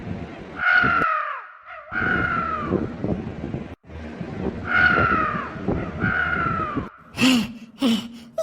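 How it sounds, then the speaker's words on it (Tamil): A crow in a cartoon caws repeatedly in harsh, drawn-out calls, loud and close, with short pauses between bursts and a few sharper cries near the end. "பில்டிங்குள்ள காக்கா சத்தம் கேக்கு?"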